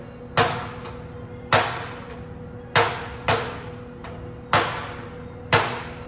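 A handleless hammer head strikes metal six times during rust repair on a 1980 Trans Am, at a steady, unhurried pace, each sharp ringing tap fading quickly before the next.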